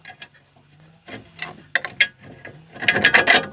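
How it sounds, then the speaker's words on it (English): A ratchet tightens hub bolts on a Daihatsu Charade during reassembly, giving close clicking bursts with pauses and a rapid, louder run of ratcheting clicks at the end, with no talk. "pop one of these bolts in."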